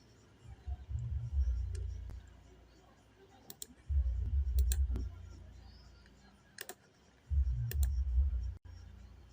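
Several sharp mouse clicks on a computer, some in quick doubles, sounding close and crisp over steady low background hum and short murmured bursts of a voice.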